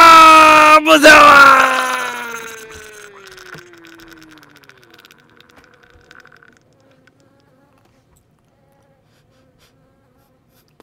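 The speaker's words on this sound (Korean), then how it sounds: "벌 소리 들린다." Bees buzz loudly in the Spelunky video game, a dense droning swarm at the start that thins and fades over several seconds into near silence.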